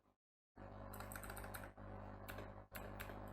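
Typing on a computer keyboard while entering a MySQL query, a dense run of key clicks that starts after a brief silence and carries on steadily over a low constant hum, with two short pauses.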